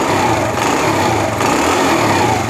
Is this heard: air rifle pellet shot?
no